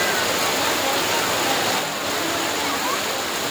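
Floodwater from heavy rain in Ajmer, Rajasthan rushes through the streets toward the railway station, making a steady, loud, broadband roar like a torrent that continues without a break, with no voices heard.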